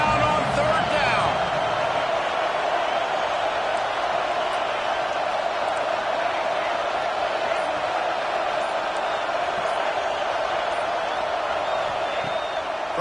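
A football stadium crowd at a Florida Gators game on third down roars in a steady, dense wash of cheering, while a commentator talks over it.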